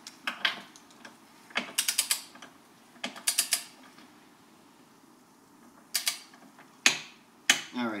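A torque wrench set to 16 foot-pounds clicks as it tightens the bolts of a GM Performance strut tower brace on a Camaro SS, sounding a series of short, sharp ratcheting clicks in quick bursts with brief pauses between them.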